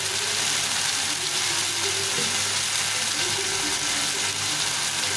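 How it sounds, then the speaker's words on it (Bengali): Onion and garlic paste frying in a pan for a soybean curry, a steady close sizzle with a low hum underneath and no talking. "এই সব বাটা মশলা রান্না করছি এটাকে একটু ভালো করে ভেজে নেব"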